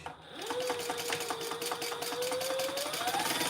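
A sewing machine runs a quarter-inch seam on a bag connector, a steady close whirring drone with rapid needle clatter that picks up speed toward the end.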